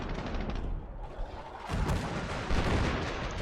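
Mortar fire in a strategy video game sounds as a dense, continuous barrage of overlapping booms and thuds, loud and rumbling throughout with no pauses.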